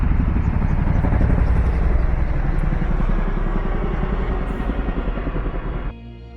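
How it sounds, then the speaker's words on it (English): A big helicopter flies around over a slot canyon in the Gila Wilderness, its rotor thudding as a loud steady drone that fades slightly before cutting off near the end. "Got a big helicopter flying around here."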